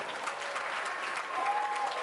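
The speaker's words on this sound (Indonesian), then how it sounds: "Tepuk tangan sekali lagi boleh" Applause from the crowd at a school Independence Day ceremony at Alexandria Islamic School, a steady moderate wash of clapping that holds evenly for its whole length, with no clear voices above it.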